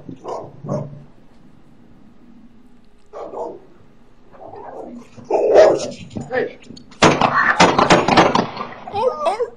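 A pit bull attacking in a yard, barking and growling in loud bursts that grow more intense and frantic toward the end, with people shouting over it.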